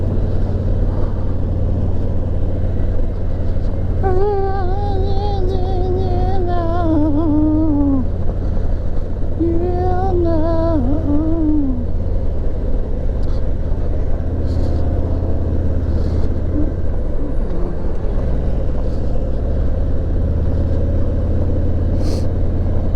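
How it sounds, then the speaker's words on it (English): Motorcycle engine running steadily during a ride, a constant loud rumble and drone throughout with wind noise, a few rising and falling tonal whines partway through, and no talking. "Let's see how the bike engine is going."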